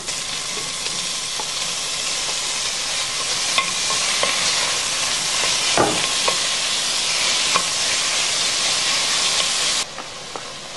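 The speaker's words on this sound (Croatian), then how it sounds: "Junetinu izrežite na komade i dodajte prethodno pirjanom luku i mrkvu." Pieces of beef frying in a pan with previously sautéed onion and carrot, a loud, steady hiss and sizzle with scattered pops and clicks, easing slightly near the end, no voices.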